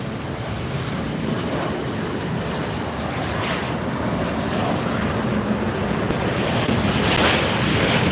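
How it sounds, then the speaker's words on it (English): A Southwest airliner arriving at LAX makes a steady, loud, broadband roar that fills the whole stretch without a break. "We have a Southwest coming in, so you can see an arrival from this view."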